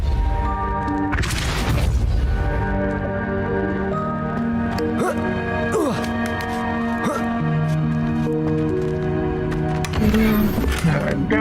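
The Depulso repelling spell is cast in Hogwarts Legacy, a sharp forceful blast with booming impacts over loud continuous orchestral game music.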